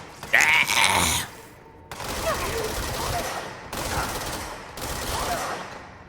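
Sustained bursts of rapid gunfire from a gun in the game Control come in three long volleys separated by brief gaps, loud and close, following a short shout at the start.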